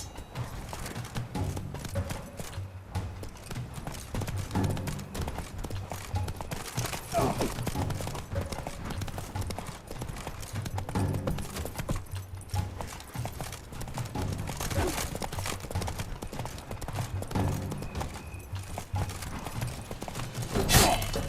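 Geralt's horse Roach galloping in The Witcher 3, hooves pounding in a steady fast clip-clop rhythm throughout, with game ambience and occasional clashes and bursts over it.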